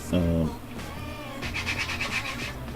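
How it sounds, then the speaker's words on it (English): Rapid rhythmic scratchy rubbing of sandpaper by hand against a hard 3D-printed plastic prop, close up, after a brief low hum at the start. "So I'm just going to start sanding this."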